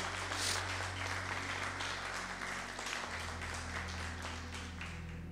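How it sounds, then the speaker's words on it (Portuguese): Applause from a church congregation during a sermon, a steady even wash of clapping heard alone, with a low sustained hum underneath throughout. "Você pode aplaudir ao Senhor por isso?"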